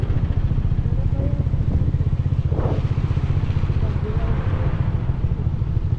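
Motorcycle on a long night ride, its engine droning steadily at close range as the bike jolts over potholes, with a rattling thump midway through; no one speaks.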